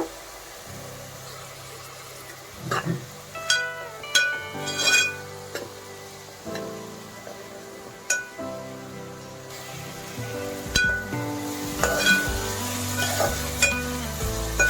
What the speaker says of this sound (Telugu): ఇప్పుడే ఉప్పు వేసుకుంటే ఆ ఉల్లిపాయ ముక్కలు తొందరగా మగ్గిపోయాయి అన్నమాట